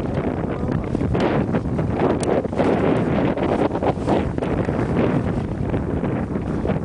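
Steady northeast wind gusts across open water from a fishing boat, a continuous loud roaring buffet against the microphone with no break and no voices.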